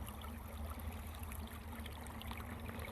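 Water with small fish pours steadily into a net at a little stream, a continuous trickling and splashing that stays close and even throughout, with no voices.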